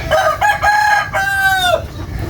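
A young stag rooster crows in a coop, one loud, close, drawn-out cock-a-doodle-doo filling most of the moment before it trails off.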